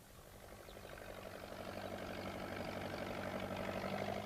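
Farm tractor engine chugging steadily at low revs, a rough mid-low rumble that grows slightly louder as it approaches, with no voices.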